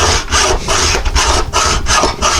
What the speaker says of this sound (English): just take the hacksaw here and hold it in the saw vise jaw and just give it a quick saw into